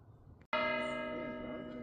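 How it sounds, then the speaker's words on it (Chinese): A church bell at an 18th-century hilltop Marian sanctuary overlooking Braga strikes the hour with one sudden, loud, clear toll that rings on and decays slowly, alone without talk. "整点了，又听到教堂的钟声。"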